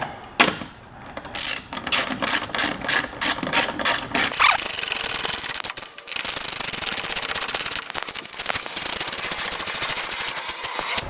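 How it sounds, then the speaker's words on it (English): Rapid mechanical ratcheting from a hand ratchet driving screws back into the top of a Ford F-150 Tremor grille, close and in repeated bursts with rubbing and handling noise between them. "we're gonna start putting all of these screws back into place on the top part of the grill"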